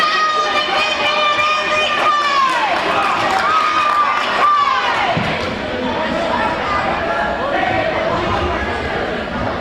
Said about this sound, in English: So we're hearing a little commentary from the crowd.